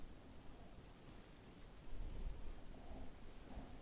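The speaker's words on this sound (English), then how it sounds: "Oh, it's raining." Rain and thunder in the video game Genshin Impact: a low thunder rumble swells partway through over a steady wash of rainfall, fairly faint and with no talking.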